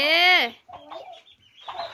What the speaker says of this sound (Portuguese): esse é os filhotes de peru